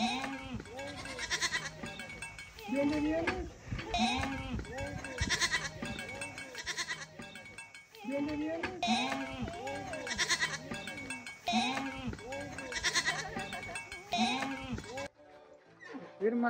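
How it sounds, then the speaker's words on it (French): Several goats bleat repeatedly in Baja California, Mexico, close and loud, their wavering cries overlapping in bursts with short pauses, a cowbell clinking faintly among them. "Les chèvres qui font du si bon fromage qu'on va aller chercher."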